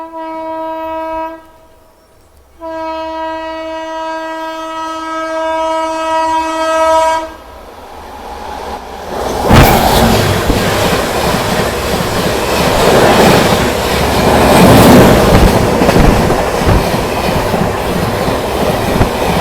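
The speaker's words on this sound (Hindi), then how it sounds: "अभी आ रही है train number 2221 CSMT Nizamuddin CR की मुंबई राजधानी एक्सप्रेस।" The Mumbai Rajdhani Express, CSMT to Nizamuddin, approaches on an Indian rail line and sounds two long, loud horn blasts. It then roars past close by with heavy rushing rumble and clattering wheels, and no voices are heard.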